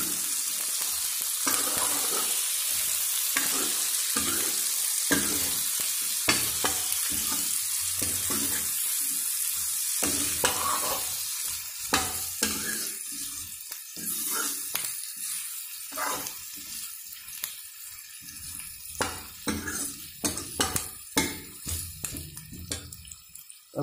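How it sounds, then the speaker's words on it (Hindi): Raw matira (watermelon) sabzi fries in a pan as turmeric powder is stirred through, a close sizzle with repeated scraping spoon strokes and clatter that grows sparser and more broken toward the end, with no talking. "अब हम इसके अंदर डालेंगे हल्दी पाउडर और हल्दी को मिक्स कर देंगे।"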